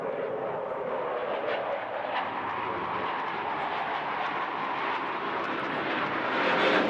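A jet aircraft pulling a hard, high-G turn at the Bournemouth Air Festival gives a sustained, loud engine roar that rises slightly toward the end, with no voices.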